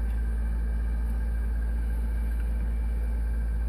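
A Maytag 92 multi-motor engine runs steadily, giving a constant low rumbling drone with an even mechanical hum throughout and no talking.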